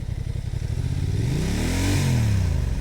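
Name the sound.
motorcycle engine revving in sand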